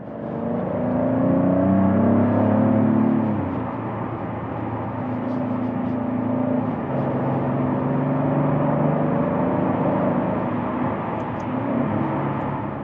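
A 520-horsepower Maserati Grecale Trofeo SUV's engine is heard from the cabin as it accelerates with a rising, steady drone and shifts through gears, its pitch climbing and dropping under a constant road roar.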